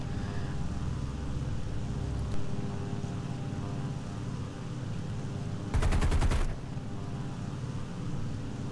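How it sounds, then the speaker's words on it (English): Tail gunners on an A-20G-30 aircraft in a combat flight game fire one short, rapid machine-gun burst over a steady, droning engine background. "just so the tail gunners don't fire and blow the next belt of ammunition on, shots that are never ever going to connect"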